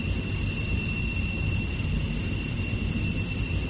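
A steady, loud broadband roar with a constant high whine comes from an airplane in a 3D flight video game, holding level for several seconds as it heads toward landing at a beach.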